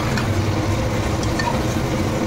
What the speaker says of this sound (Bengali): চিকেনটা আরেকটু ভাজা ভাজা হোক